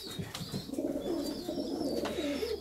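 Low, soft pigeon cooing repeats in a steady murmur, with occasional faint chirps from young birds, close by and quiet.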